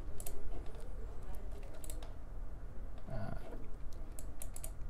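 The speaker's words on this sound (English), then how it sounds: "So you just type the name of the program into the location box." Keys clicking on a computer keyboard while a program name is typed into a location box, a fairly quiet scattered run of taps over a steady background hum.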